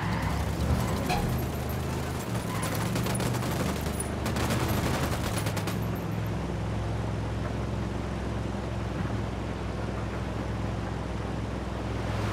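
Sustained gunfire in the video game Ghost Recon Wildlands, a dense burst of rapid shots over a constant loud background roar, fading into a steady rumble afterward.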